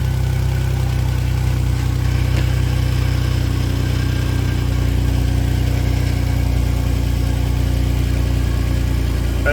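A 2009 Jeep Wrangler JK engine idles just after a cold start, a steady low rumble that holds even and close for the whole stretch, with no speech over it.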